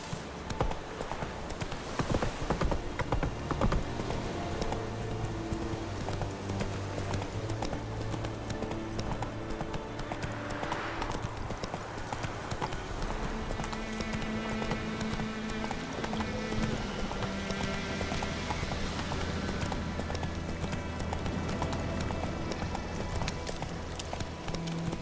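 Roach the horse gallops in The Witcher 3, with steady, rapid hoofbeats that carry on throughout beneath a layer of continuous game music.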